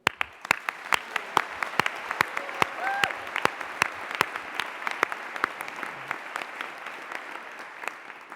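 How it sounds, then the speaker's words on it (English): Graduates and guests at a Greenwich university graduation ceremony applaud, with a dense run of individual claps forming steady, moderately loud hand-clapping that carries through without talk. "so let's get a big cheer for you"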